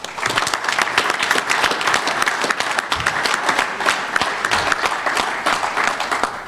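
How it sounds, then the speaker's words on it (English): An audience at a baseball league announcement applauds with a dense, steady round of clapping that holds for several seconds, heard at moderate distance and clear of speech. "let's give a nice round of applause for all the work that everyone has done bringing this thing"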